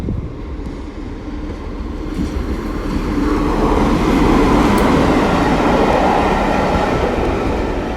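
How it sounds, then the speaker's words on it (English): A class 47 diesel locomotive, number 47813, passes through Leamington Spa station with a loud, close engine roar and rumbling wheels. The sound swells in the middle and stays heavy and continuous, with no talking. "We will see this locomotive move from Eastleigh going to Leicester."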